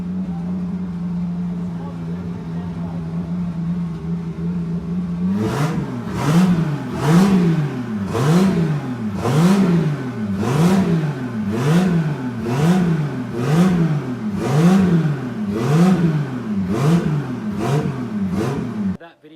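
A VL Turbo car engine idles steadily, then is revved repeatedly in a strong rhythmic series of rising and falling blips, loud and close, for its first start-up after the motor was installed.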